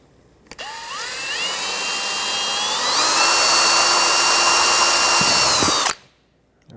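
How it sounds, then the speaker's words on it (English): A power drill spins up and bores a hole for a rear mud flap on a 2005-2010 Pontiac G6, whining loudly and rising in pitch as it runs for about five seconds before stopping abruptly. "I'm going to grab a drill. We'll drill through."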